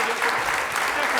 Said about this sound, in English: please give a hand to Mr. Ross Halfin.